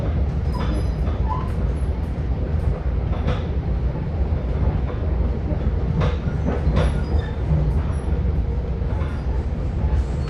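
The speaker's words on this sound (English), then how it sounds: "This is the train to Port Washington." A Long Island commuter train bound for Port Washington rolls steadily along, with a continuous loud rumble of wheels on rail and faint clicks throughout, heard from inside the car.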